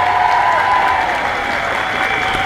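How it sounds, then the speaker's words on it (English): Steady, loud applause from a crowd at an outdoor union demonstration against school support staff cuts, a dense continuous wash of clapping that holds level throughout. "So give them a big round of applause."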